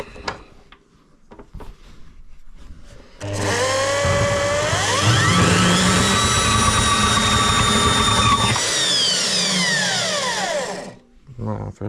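A Parkside PMB110 B2 power hacksaw whines steadily through a metal bar for several seconds, its pitch rising then settling, before winding down; faint clatter before and after.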